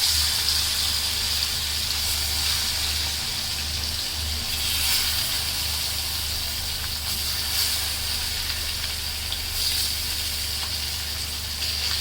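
Koi fish frying in oil in a kadai, a steady broad hiss and gushing sizzle that holds evenly throughout with faint crackles, close and continuous, no voices.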